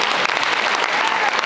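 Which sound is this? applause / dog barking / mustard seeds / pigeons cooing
applause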